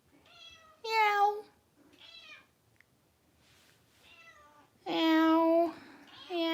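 A house cat meows repeatedly, four or five clear close meows spaced by pauses, the last ones louder and longer, with soft human sounds faintly in between.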